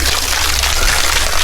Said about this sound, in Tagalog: Lakas ng tulo.